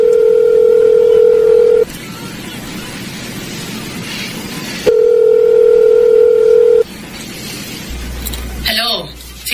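A payphone handset gives off a steady dial tone, then touch-tone keys beep as a number is dialed. The tone blares loud and close, broken by pauses, with faint background noise.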